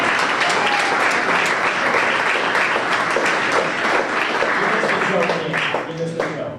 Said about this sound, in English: let's give Cam a round of applause